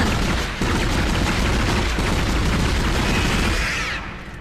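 Enemy gunfire in the video game Dead Space, during a fight with hordes of Necromorphs, comes as a dense, loud barrage of booming bursts and pops that fades slightly at the end, with no speech.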